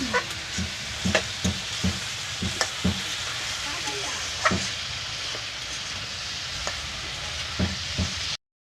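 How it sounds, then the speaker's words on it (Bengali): Vegetable labra stir-fried in a covered pan makes a continuous crackling sizzle with repeated utensil scrapes and taps in a loose rhythm, then cuts off abruptly. "এখন লাবড়াটারে কষিয়ে নেওয়া হবে বন্ধুরা"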